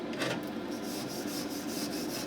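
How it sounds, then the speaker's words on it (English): A wire brush scrubs slag off a steel weld in quick, close rasping strokes over a steady scratchy texture. "Just come along with your wire brush again"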